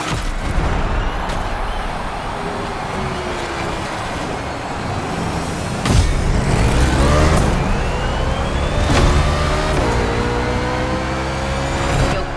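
NASCAR race cars in The Crew Motorfest pulling out of the pits after a pit stop, loud engines revving and rising in pitch as several cars accelerate away, alone with no talk.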